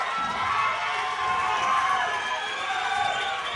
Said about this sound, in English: And what a great reaction by the crowd.